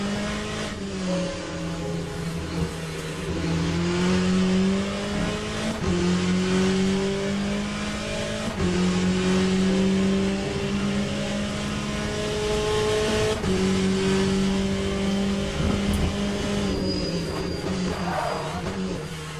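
A race car engine in Le Mans Ultimate drones steadily through repeated rising pitch sweeps as it climbs through the gears, with brief dips at each shift and a faint tire squeal, loud and continuous throughout.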